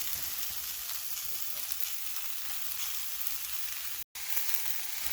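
Mexican squash sizzles and fries steadily in a hot pan, a close, even crackling hiss that runs unbroken apart from one brief dropout near the end.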